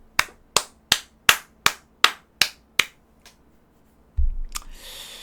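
Eight sharp, evenly spaced claps ring out at a steady rhythm in a quiet room at a Korean insurance telemarketing sales coaching session, then brief rustling follows.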